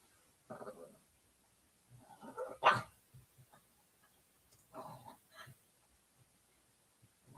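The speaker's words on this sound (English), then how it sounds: "Can you guys hear my dog? He's being so damn loud." A pet dog barks loudly in short bursts indoors, with a few separate outbursts spread across the stretch and quieter gaps between them.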